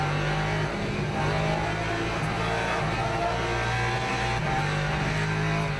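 A Lexus GT3 race car engine roars in the Le Mans Ultimate sim racing game at Interlagos, a loud, steady drone with shifting pitch as it accelerates through gears.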